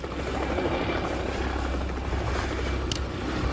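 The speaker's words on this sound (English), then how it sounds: "Stop with the helicopter" A police helicopter flies overhead during an arrest in Manchester, its steady loud rotor thrum and engine drone filling the whole stretch without pause.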